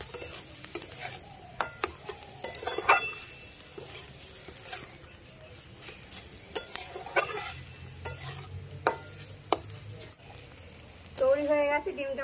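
A utensil stirs and scrapes through egg tomato curry in a sizzling pan, with irregular metallic taps and clicks over a low, continuous frying hiss, and a voice is briefly present.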